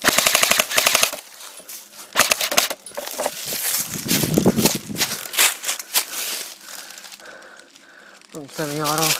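Airsoft gun firing in semi-auto during a one-on-one skirmish: a dense run of sharp, rapid cracks up front, then scattered single shots amid rustling and shouted talk.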